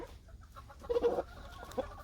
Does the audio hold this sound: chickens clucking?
yes